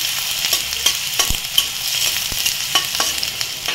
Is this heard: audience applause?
no